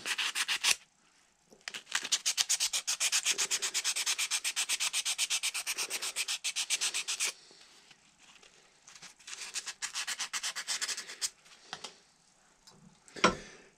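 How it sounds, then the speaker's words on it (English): Sandpaper rubs back and forth over a heat-treated steel spring, polishing off debris in a fast, steady rasping rhythm that is loud and close, pausing briefly before a second softer run, then a sharp knock near the end. "just take some sandpaper and remove any debris and polish it up a little bit"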